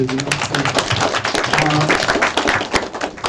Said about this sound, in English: Ritu Mathur, nice round of applause